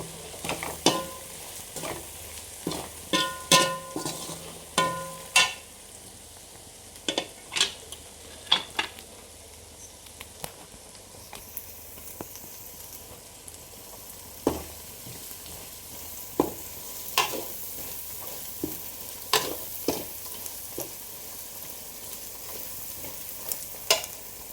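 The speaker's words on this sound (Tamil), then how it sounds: "மசாலாவோட பச்சை வாசம் போகிற வரைக்கும் வதங்கட்டும் ஃப்ரெண்ட்ஸ்" Masala fries in oil in a pan while a spoon stirs it, with quiet continuous sizzling broken by frequent sharp metallic scrapes and clinks of utensil against the pan.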